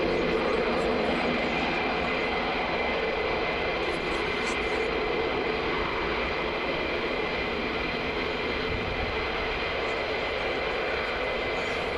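Boeing C-17 military transport aircraft running on the ground at night at RAF Lakenheath, a steady distant engine drone and rumble that holds constant throughout with no talk.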